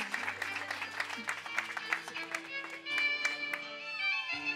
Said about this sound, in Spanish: aplauso para la hermosísima madre de nuestra quinceñera, Vicky Camacho